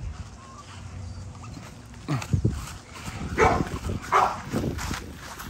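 XL Pitbulls in a home backyard, heard as a cluster of short yips, whimpers and low grumbling barks from several dogs close by over steady outdoor noise, with no talking.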